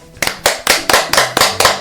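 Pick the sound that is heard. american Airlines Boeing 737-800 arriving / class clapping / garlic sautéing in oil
class clapping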